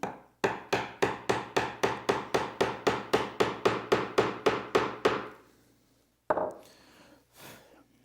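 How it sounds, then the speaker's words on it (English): A mallet drives a wide chisel straight down along the shoulder line of a half-blind dovetail in wood. About sixteen sharp, evenly spaced blows ring out close, then a pause and a couple of softer knocks. "grab a chisel that's wider than the workpiece, drop it in that shoulder line, and we'll chop straight down"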